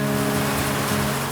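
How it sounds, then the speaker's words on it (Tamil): Heavy rain pours down in Kodaikanal's hills, a dense, loud, unbroken wash of hiss and rumble that fills the whole moment with no pauses and no voices. "இப்போ மழை கொட்டுன்னு கொட்டி வெள்ளி நீர்வீழ்ச்சியில பயங்கரமா தண்ணி போகுது"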